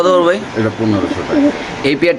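Large-sized pigeons at a caged pigeon market coo in low, repeated bursts close by, with chatter and other birds mixed in throughout.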